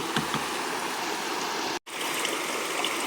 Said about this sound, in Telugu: ఇప్పుడు దీని నిండా వాటర్ వేసుకోవాలన్నమాట